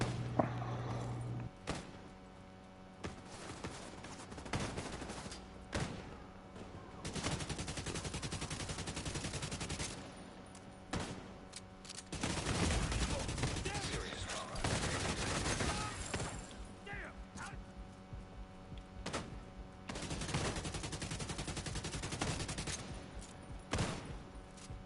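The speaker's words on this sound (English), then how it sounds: "This guy's shooting me." Sustained gunfire in The Division 2, with repeated bursts and fusillades of automatic shots, some near and loud, others farther off, running nearly continuously with brief lulls between volleys.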